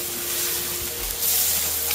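Ribeye and fajita steaks sizzling on a grill, a loud, steady frying hiss that swells slightly as the meat is flipped, with faint low thumps underneath.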